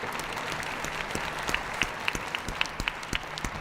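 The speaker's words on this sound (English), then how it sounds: "Can we give them one more round of applause?" An audience at a math quiz show claps steadily and fairly loudly, a dense wash of applause with a few sharp, distinct claps and a faint whoop or two standing out near the end.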